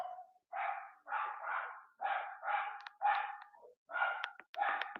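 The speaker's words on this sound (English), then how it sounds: "Dog." A dog barks repeatedly in a steady series of about eight loud, close barks with short gaps, the sound standing alone without talk.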